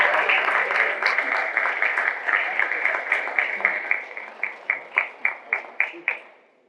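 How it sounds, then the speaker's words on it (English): An audience at the NAPE Young Professionals Leadership Forum applauds its panelists, a broad round of clapping that thins out into a few separate, spaced claps before stopping. "let's give a big round of applause"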